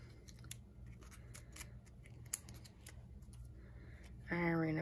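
Scissors cut small pieces of paper for a handmade card, many quick crisp snips close by over a low background, ending with a brief voice.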